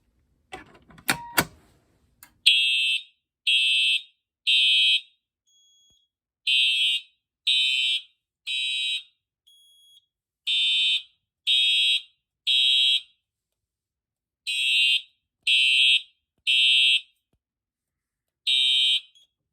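A Simplex fire alarm system on a 4004R panel with a 2099-9756 pull station, sounding in code 3 as a series of loud, high, steady electronic tones in timed bursts with short gaps, after a brief clatter at the start.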